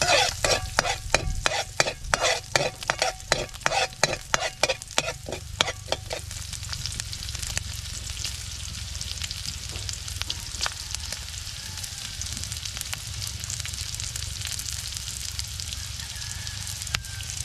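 Garlic and onion fry in a pan, a steady close sizzle with crackling, while a utensil scrapes and stirs in quick rhythmic strokes for the first few seconds before the frying carries on alone.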